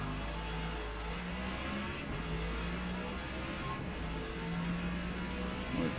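A Dodge Challenger in Forza Motorsport at the Nürburgring drones with a loud sustained engine note that shifts pitch as it slows for a corner, steady and close, with no talking.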